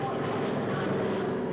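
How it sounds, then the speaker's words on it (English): Propeller aircraft drone, a hospital plane arriving at a motor-racing event, heard as a steady, loud broadband rumble with wind-like noise and no break throughout. "A hospital plane flew in to pick up the survivors."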